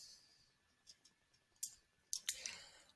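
A few quick, quiet mouse clicks on an options button while building a Glide attendance tracker app, with short gaps between them and no talk.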